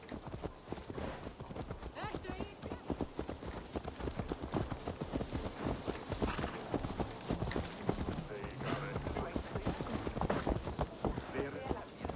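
A horse trots along in Assassin's Creed Valhalla, its hooves clip-clopping in a steady, close rhythm throughout, while characters talk over it.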